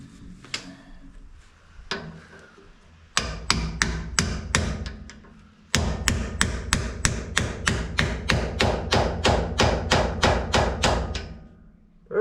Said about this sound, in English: Let's see if I can swing a hammer with my right hand